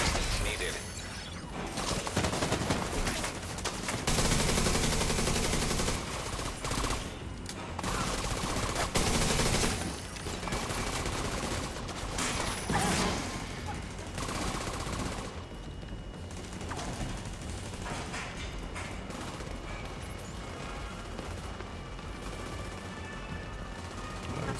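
Sustained gunfire from a Division 2 firefight, with bursts of automatic shots, mechanical clanks and scattered impacts rolling on continuously and densely over a long stretch, loud in the early part and easing slightly later.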